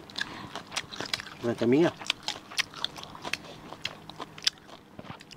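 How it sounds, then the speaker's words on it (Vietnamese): Crunchy greens are bitten and chewed near the mouth at a family meal, with short crisp crunches in an irregular rhythm, one longer grinding bite midway, and people talking quietly between the bites. "Mà cắn cải ăn luôn à."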